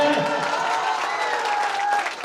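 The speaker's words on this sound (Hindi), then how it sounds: "अच्छा ताली हो जाएगी मेरे एनसीसी के लिए एक बार फिर से" An audience gives steady applause for NCC cadets, dense clapping that carries on with little change before easing slightly at the end, with some voices mixed in.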